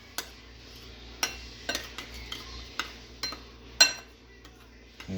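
A spoon stirs chicken inasal marinade in a bowl, with sharp, irregular taps and clinks against the sides every half second or so over a low, steady background hum.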